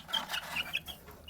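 A young rooster, a cockerel a few weeks old, clucks in a short series of soft, close calls, with rustling and light handling noise around it.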